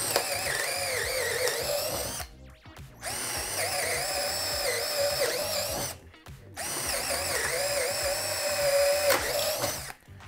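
Parkside cordless drill in second gear bores into a 2x4, three bursts of high whining motor noise with short silent gaps between them, close and loud with no voices.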